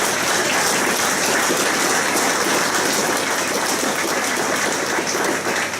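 Sustained audience applause at a mayor's New Year address in Messanges, a dense, steady patter of many hands filling the hall for the whole stretch without talk.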